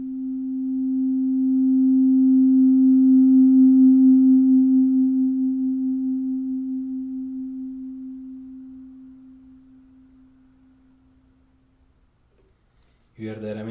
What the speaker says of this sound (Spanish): con ella puedo hacer sonidos suaves